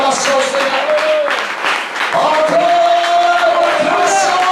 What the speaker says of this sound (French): Allons, bonne acclamation au Seigneur.